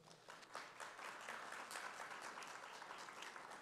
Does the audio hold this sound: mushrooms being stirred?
no